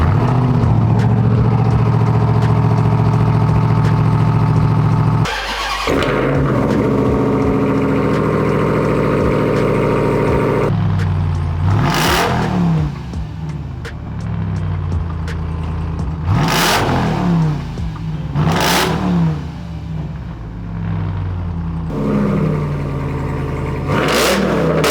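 A Ram TRX pickup truck engine with a Corsa catback exhaust idles with a deep exhaust burble, then revs sharply several times in quick bursts, loud and close, with no talking.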